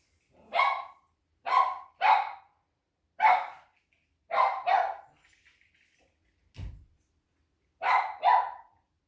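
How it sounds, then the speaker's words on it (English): Dogs bark excitedly while being taken out for a walk, sharp loud woofs coming singly and in quick pairs across several seconds, separated by short silences and a dull thump near the end. "There's the dog's going crazy"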